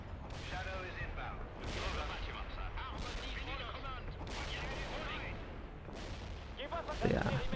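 FAMAS bullpup assault rifle fire in the real-time strategy game World in Conflict: repeated bursts of gunfire and explosions over a busy battle din, with a loud burst near the end.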